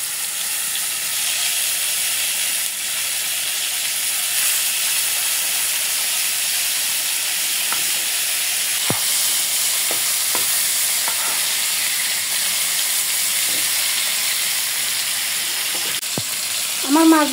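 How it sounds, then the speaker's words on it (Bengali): Rohu fish pieces fry in oil seasoned with salt and turmeric, giving a steady, loud sizzle and hiss that runs the whole time, with a few faint clicks and kitchen knocks and no talking. "আমার মাছগুলা ভাজা হয়ে গেছে।"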